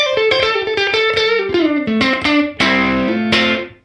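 Electric guitar through a Universal Audio UAFX amp simulator pedal with a short room-mic style reverb: a run of picked single notes and chords, moderately distorted, each ringing briefly into a small room, played alone without talk.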